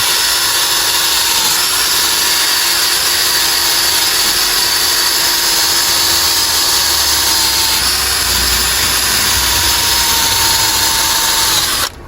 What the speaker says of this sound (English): What I'm doing here is just taking a wire brush and a drill.